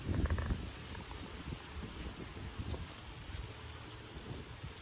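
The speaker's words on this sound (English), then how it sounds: "it's really, really windy today" Steady wind roars and buffets outdoors, a dense low rumble with gusts swelling near the start and no voices.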